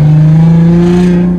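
A Toyota car exhaust revs in a steady, loud, close drone that rises slightly in pitch and then eases off.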